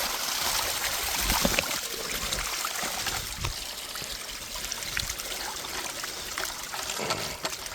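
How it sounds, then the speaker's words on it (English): Water trickles and gurgles through a frost protection line on a farm on a frosty night, a steady, close and fairly quiet flow with a few small splashes and no talk. "We got water in the line."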